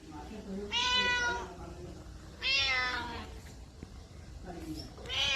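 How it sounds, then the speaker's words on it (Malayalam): A kitten at home gives three clear, drawn-out meows spaced a couple of seconds apart, close by, over a quiet room hum. "ഇത് തിന്നാനുള്ളതല്ലടാ പൂച്ചക്കുട്ട"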